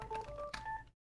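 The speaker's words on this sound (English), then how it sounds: "Getting a phone call." An incoming call on the wife's phone: a quick run of clear electronic beeps at shifting pitches over a low background hum, lasting under a second before cutting to silence.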